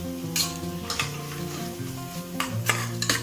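Tomatoes cooking down in a pan for mint pulao, with a spoon scraping and stirring through a steady sizzle; several brief scraping strokes stand out close by over the continuous frying hiss.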